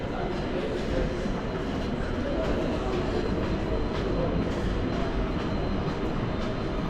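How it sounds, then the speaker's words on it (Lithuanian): A train pulls out of Kraków station with a steady, loud rumble of wheels and carriages, the rolling noise holding evenly throughout. "Traukinys išvažiuoja,"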